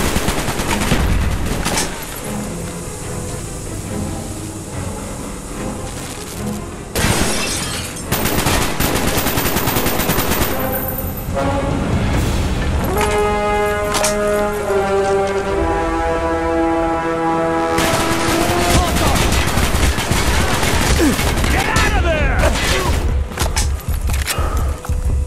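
Gunfire in the video game Call of Duty: Black Ops comes as loud bursts of automatic weapons fire and single shots, with heavy thumps and booms, layered over tense score that swells partway through, with hardly any speech.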